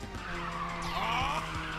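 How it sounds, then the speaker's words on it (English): A car drifts in the Ridge Racer 6 racing game, its engine droning steadily while a long rising tire squeal cuts in halfway through, loud and continuous over the short stretch with no voices. "after this drift, we're gonna do a triple NOS."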